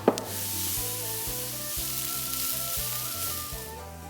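Enoki mushrooms and flour fry in a wok with a steady close sizzle and hiss, broken by a sharp clank at the start and soft regular stirring knocks throughout.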